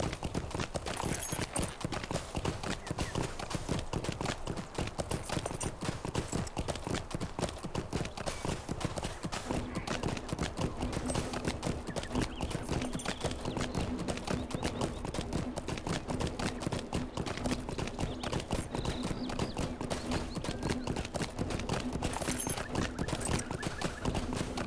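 A horse in the video game LOTRO clip-clops along, its hooves striking in a steady, quick rhythm that keeps going throughout at a moderate, close level.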